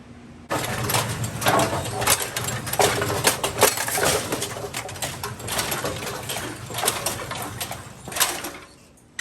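A machine tool turret indexing, unlocking, and its pins dropping, heard as continuous mechanical whirring with repeated clicks and knocks over about nine seconds, no voices.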